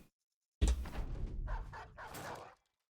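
A dog in the Battle Brothers video game gives a short burst of barks and yips that starts abruptly after a brief silence and fades out around two and a half seconds in, with no talking.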